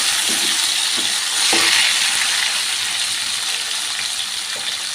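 Ivy gourd (dondakaya) and chopped tomato fry in a pan for a restaurant-style dondakaya fry, giving a steady close hiss of sizzling with a few light scrapes as the mix is stirred with a ladle, no voices.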